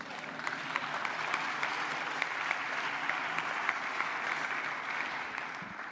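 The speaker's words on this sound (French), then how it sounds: "on peut les applaudir" An audience applauds during a speech by Macron on Africa and Europe. Many hands clap in a steady, even wash with a few sharper individual claps standing out, holding at a moderate level from start to finish.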